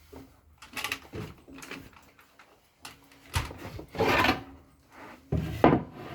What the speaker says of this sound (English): I'm just going to run the velvet sander on there to get that